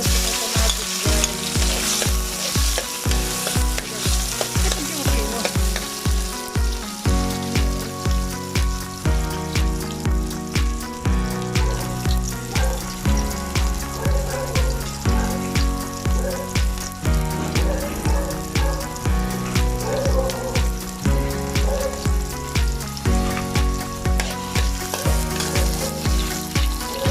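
Onion and tomato fry in hot cooking oil while a utensil knocks and scrapes in a steady rhythm, a loud close sizzle with regular thumping beats throughout and no talking.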